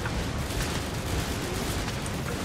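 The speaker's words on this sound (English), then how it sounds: "Forrest Gump, like, running through the explosions." Explosions rumble in the co-op PC shooter Firefall, a dense, loud, sustained roar of blasts and destruction with no clear breaks and no voices over it.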